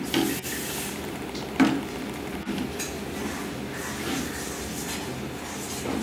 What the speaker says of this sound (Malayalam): എണ്ണ ദേ നന്നായി ചൂടായിട്ടുണ്ട്. അതിലേക്ക് നമ്മൾ പരത്തി വെച്ചേക്കുന്ന നമ്മുടെ മാഗി വട